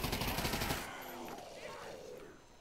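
Rapid automatic gunfire in the VR zombie game Der Riese, a loud rattling burst of shots for the first second that cuts off into a ringing, echoing decay with no talking.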